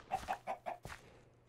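Four short, evenly spaced clucks from a chicken in the video game Minecraft, followed by a faint trailing cluck, close and clear with no talking.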